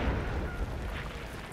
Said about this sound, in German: Ist alles wieder am Explodieren vor uns